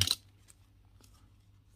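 Collectible Thai coins clink as they are handled and sorted: one sharp metallic jingle at the start, then a few faint light taps in a quiet room.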